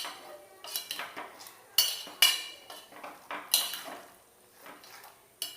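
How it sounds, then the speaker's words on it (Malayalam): An evening snack being mixed in jaggery syrup in a pan, heard as a series of irregular metallic clinks and scrapes of a spoon against the pan, moderately close and fairly quiet, with no talk. "ഇനി ഇത് നന്നായി ശർക്കരപ്പാനിയിൽ മിക്സ് ചെയ്തെടുക്കാം."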